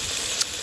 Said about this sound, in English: Onions, butternut, green peppers, tomatoes, all frying nicely there with turmeric